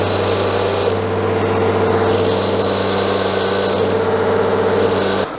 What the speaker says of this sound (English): I will use my brass wire wheel to try to have them all clean and ready to be lapped